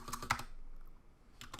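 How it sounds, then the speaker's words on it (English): Keys clatter on a computer keyboard in two short bursts of clicks with a quiet gap between them, close-miked over faint background noise, with no voices. "I don't know why I'm typing that out"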